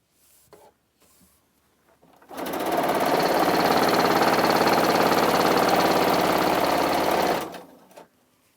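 A sewing machine back-stitches and then runs along face mask fabric, starting with a few short clicks and then settling into a loud, steady, fast whirring hum that lasts about five seconds before stopping.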